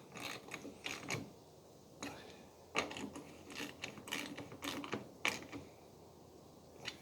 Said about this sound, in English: Then I want to tighten these bolts, so we'll loosen this up a little bit and run these up tight against that middle knob.